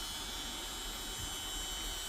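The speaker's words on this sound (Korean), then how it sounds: "네 새로운 EPB 모터입니다" A new electric parking brake motor for a Mercedes W221 S-Class runs steadily on the bench, giving a continuous, fairly loud whir with a high buzzing edge from start to finish.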